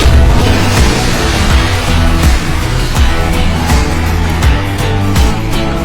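Heavy booming shots from a 2S3 Akatsiya 152 mm self-propelled howitzer thud repeatedly over dense, loud background noise at the front line, each blast sharp and powerful.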